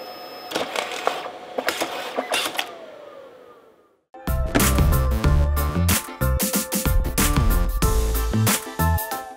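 Photo booth printer at work: first a few mechanical clicks and a whirring pass, then after a brief gap a loud, busy run of rhythmic feed and print-head clatter.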